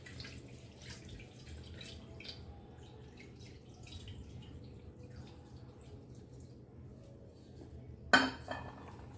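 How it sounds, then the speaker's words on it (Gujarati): Homemade paneer being washed in water, with faint drips and quiet splashing in a calm kitchen, then a sudden louder clatter and clink of a pot or utensil near the end. "આપણે પનીરને ધોઈ લઈશું"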